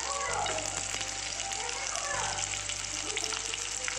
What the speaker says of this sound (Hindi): अनियन को थोड़ा ही सॉटे करना है